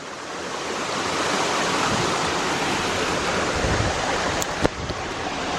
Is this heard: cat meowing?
no